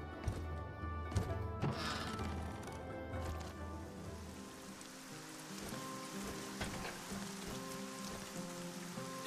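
Rainfall in the fantasy role-playing game Arcania, a steady soft patter under scattered clattering knocks and thuds, with no talking.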